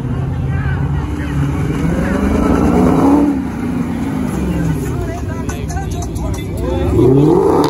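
A car spinning its tires in a burnout at a Fresno car meet, with loud engine roar and revving rising and falling across the stretch, surging near the end, while a voice talks over it.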